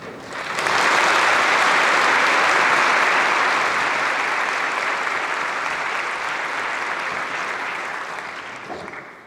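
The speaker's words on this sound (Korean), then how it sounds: "큰 박수로 축복해 주시길 바랍니다" Congregation applauding at a pastors' ordination ceremony, a dense sustained wash of clapping that swells in quickly, holds loud for several seconds and tapers slightly at the end.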